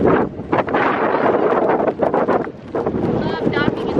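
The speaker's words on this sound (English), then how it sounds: "Love docking at 30 knots of wind." Strong wind of about 30 knots buffets the microphone while a sailboat docks, a loud, steady roar with gusty surges, and voices call out over it.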